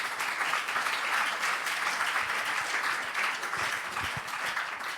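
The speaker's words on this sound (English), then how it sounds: "Can we have a last round of applause for our two speakers" Audience applause closes a session at a clean energy investment forum: a full, steady roar of many people clapping that stays loud and continuous throughout.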